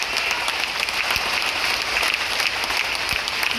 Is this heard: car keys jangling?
no